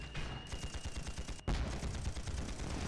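Dense volleys of rapid gunfire crackle and thud continuously during a winter battle in the Panzar game, with one brief gap before the shooting resumes even louder.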